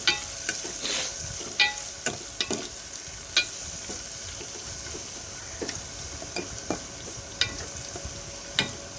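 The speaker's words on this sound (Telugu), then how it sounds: "ఉల్లిపాయలు పచ్చిమిరకాయలు దోరగా వేగేంత వరకు ఫ్రై చేసిన తర్వాత" Onions and green chillies fry in a pan, a steady close sizzle punctuated by regular clicks and scrapes of a spoon against the pan.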